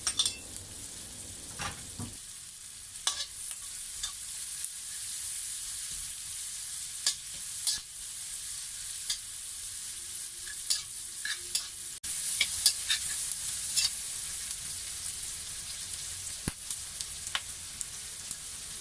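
Leftover garlic sizzles steadily in a hot pan for pancit guisado, with repeated scraping stirs and utensil knocks, close and continuous with no talk.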